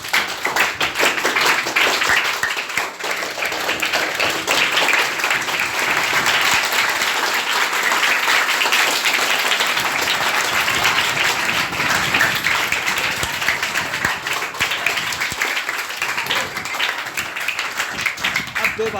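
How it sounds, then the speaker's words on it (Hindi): Students at a government middle school in Gurugram clap together during a meditation session, a dense, sustained round of applause that stays loud and even throughout, with faint voices mixed in. "तालियां बजाओ।"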